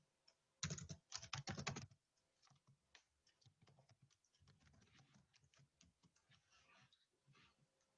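Code is typed on a computer keyboard in a quiet room, starting with a quick burst of fast keystrokes and then slowing into sparse, soft, irregular taps and clicks.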